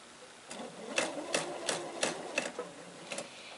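Close and clear, a sewing machine stitches a mitered quilt border in slow single stitches, a series of evenly spaced mechanical clacks about every half second, with no voices.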